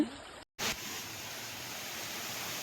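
The Tunki waterfall near Baripada in Mayurbhanj gives a faint, steady hiss of rushing water, broken briefly by a short dropout near the start. No one speaks.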